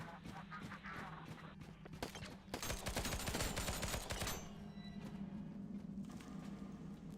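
Gunfire in a video game, with bursts of rapid automatic shots and impacts that swell in the middle and sit loud and close under a busy game soundscape.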